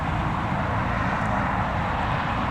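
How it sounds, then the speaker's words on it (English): A steady, broad engine roar from a police helicopter at Newcastle Airport fills the clip, continuous and moderately loud at a distance, with no speech over it. "the police chopper did a very quick"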